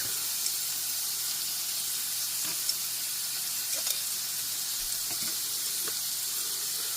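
Homemade bacon rashers fry in a pan with a constant bright, crackling sizzle, fairly quiet and even, with only a few faint ticks of movement.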